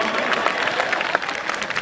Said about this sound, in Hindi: एक बार ताली बजा दीजिए तो मैं शुरू हो जाऊं।